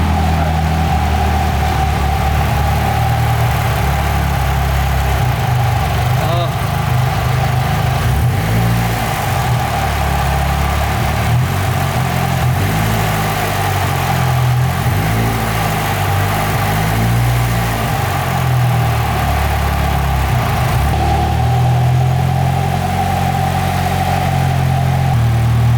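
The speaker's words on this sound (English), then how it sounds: "we're still having a hard time with the car idling" An SRZ car engine idling roughly, a loud, close, continuous rumble with an uneven, surging throb that wavers in pitch and never settles.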